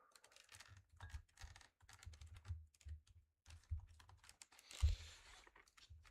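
Clacky keystrokes on a mechanical keyboard, typed in irregular bursts with short pauses in between and one sharper clack near the end, close and fairly quiet, with no voices.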